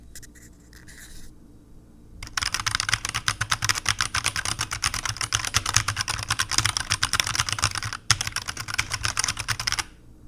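Fast, steady typing on a Redragon K617 keyboard with magnetic switches, a dense run of clicky keystrokes close up, with a short break near the end before resuming.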